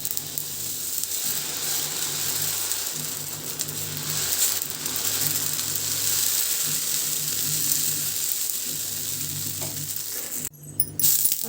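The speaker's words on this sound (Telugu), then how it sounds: "ఇంకో దోశ వేస్తున్నాను." Millet dosa batter sizzles on a hot pan, a steady close hiss with a faint low hum underneath, briefly interrupted near the end by a clatter.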